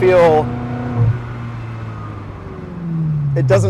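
Ferrari 360 Modena Spyder with a manual gearbox, its engine holding a steady low drone beneath someone talking, rising slightly toward the end.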